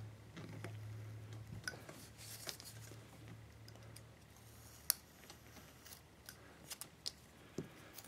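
Knife blade pressing stop cuts into wood while carving a Santa figure, heard as faint, scattered clicks and small crisp snaps over a low steady background hum, with no talking.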